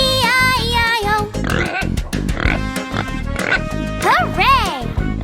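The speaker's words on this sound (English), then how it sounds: "And on his farm he had a pig" A farm pig oinks and grunts in repeated short bursts within a nursery-rhyme farm animal song, mixed with sung vocals and music throughout.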